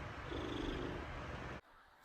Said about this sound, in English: He's just purring his head off, flopping all over the floor.